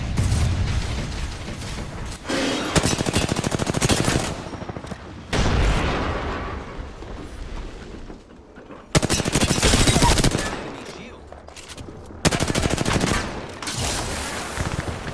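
Automatic gunfire fills a video game battle in long, loud sustained bursts, several separate volleys breaking off and restarting, with quieter gaps carrying distant shooting and background noise.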